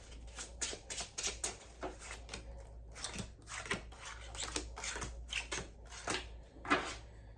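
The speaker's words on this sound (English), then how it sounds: "Quick shuffle." Gold foil tarot cards being shuffled quickly by hand, a quiet run of crisp riffling snaps and flutters in rapid bursts, close and alone.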